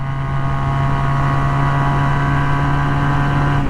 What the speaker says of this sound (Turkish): 5. viteste sonuna kadar açtım gazı.